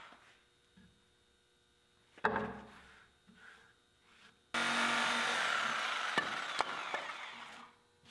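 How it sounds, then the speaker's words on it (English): A reciprocating saw cuts through a wooden barn beam, starting with a few knocks and handling sounds, then a loud, steady buzzing cut of about three seconds that stops abruptly. "what was left, I zipped out with the sawzall"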